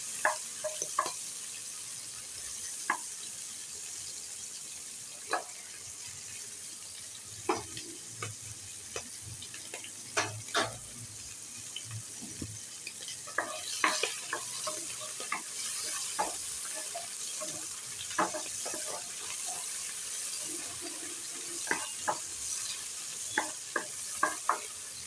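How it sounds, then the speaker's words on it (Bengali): Shrimp sautéing briefly in a pan, with a soft, fairly quiet sizzle underneath frequent sharp spatula scrapes and taps against the pan. "একটুখানি জাস্ট 1 মিনিটের মতো সতে করে নেব।"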